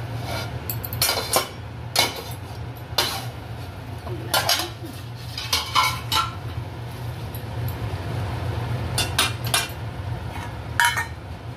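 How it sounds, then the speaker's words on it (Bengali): Metal utensils clink and scrape against a pot as the lid comes off and taro curry is stirred, a series of sharp irregular knocks over a low steady cooking hum. "এবার ঢাকাটা খুলে দেখি কতটা হলো।"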